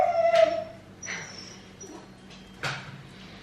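A dachshund whimpers and yips in a series of thin, high, wavering cries, several short whines spaced about a second apart, fairly close and clear with no talking.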